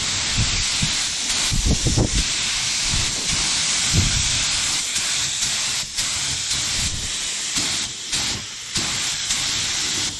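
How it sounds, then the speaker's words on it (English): A paint sprayer hisses loud and steady, laying flat blue paint onto a golf cart body, the continuous spray broken only by brief dips and bursts as the trigger eases. "we're gonna go ahead and get the blue sprayed"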